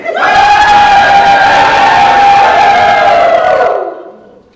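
Raucous crowd in a Bavarian beer hall, part of a staged stage performance, roaring and cheering loudly and continuously before cutting off abruptly and fading.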